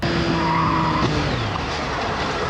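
Car braking hard and skidding at night, caught on a dashcam: a loud, steady tire screech with sliding road noise runs through the whole stretch, with no talk over it.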